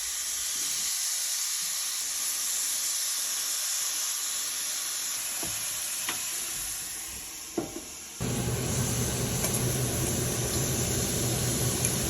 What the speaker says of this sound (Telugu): ఇప్పుడు చికెన్ పీసెస్ మ్యారినేట్ చేసినవి దీని మీద వేసుకోవాలి.